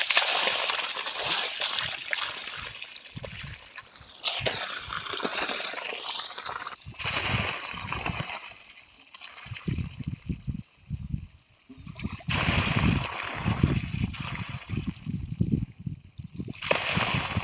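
Borewell water gushing out in summer, loud continuous splashing and sloshing nearby with surges and dips in the flow, and a brief lull partway through.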